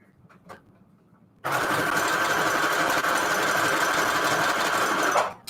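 Sewing machine stitching paper notecards, a loud continuous buzzing run of about four seconds starting abruptly after a few faint clicks, close and steady.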